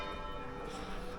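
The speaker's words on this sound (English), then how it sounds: "There's the bells." Church bells pealing in a small Italian town, heard faintly at a distance through a dense, noisy outdoor wash for just over a second.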